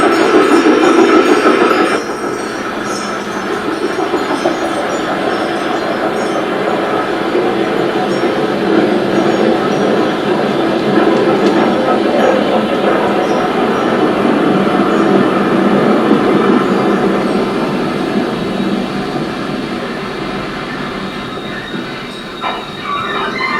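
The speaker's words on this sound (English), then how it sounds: "Soon we will hear the sounds of this train arriving." A broad gauge steam train arrives at Bridport station, a long loud rumble of rolling wagons and wheels with squealing and clatter, steady for over twenty seconds before easing near the end.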